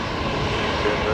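A Qatar Airways airliner at Brisbane Airport gives a steady, loud engine roar through a short stretch of broadband noise, with no distinct change in pitch.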